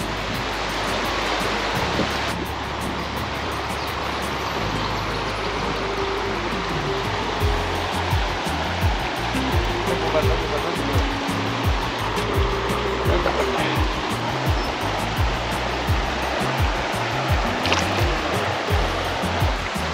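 A river in Spain rushes over large stones with a steady, close, broadband roar of churning water that stays loud and unbroken throughout, with no one speaking.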